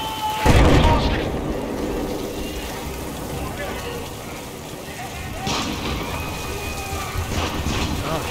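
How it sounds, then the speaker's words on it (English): Gunfire and explosions in the Battlefield 4 campaign mission Siege of Shanghai: a heavy boom near the start, then a dense, rumbling battle din with scattered distant shots throughout. "Oh shit. They're shooting."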